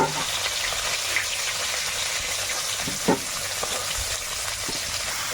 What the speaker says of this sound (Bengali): মাছ ভাজাটা লাল লাল করে ভাজা হয়ে গেছে